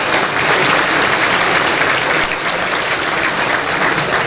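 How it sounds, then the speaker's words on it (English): Loud, steady applause from a crowd at an annual Chaldean community event, continuous dense clapping with no pauses. "Give him a round of applause."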